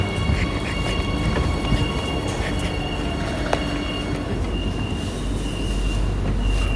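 Steady low rumble of a metro train underway, with rail and wheel noise continuing evenly throughout and a faint squeal of the wheels now and then.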